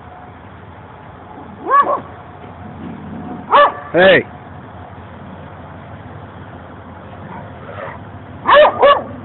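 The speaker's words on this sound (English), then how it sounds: "Don't bark at the neighbors now." Dogs bark in a few sharp pairs of barks, spaced apart, fairly close, with a brief spoken word and quiet background between.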